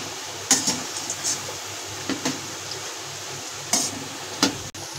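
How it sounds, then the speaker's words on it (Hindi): Peas frying over a low flame are stirred in a pan, several sharp spoon scrapes and clicks scattered over a soft, steady sizzle. "मैं इन्हें हिला दूंगी मटरों को।"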